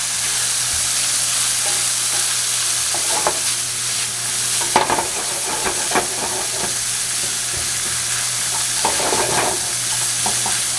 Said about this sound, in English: Always saute a little bit the tomato paste when you use it.